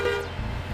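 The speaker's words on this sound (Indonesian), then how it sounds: "Kita klakson lagi teman-teman." A rice-laden truck sounds its horn on the Merak toll road, one loud sustained honk that cuts off after a moment while road and engine noise carry on underneath.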